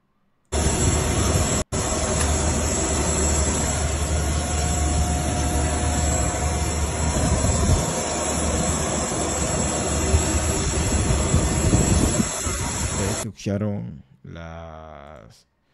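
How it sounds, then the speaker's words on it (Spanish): A loud, steady roar of airplane engine noise during an emergency landing runs continuously for most of the stretch, then cuts off abruptly into brief quieter sounds. "el ruido del avión."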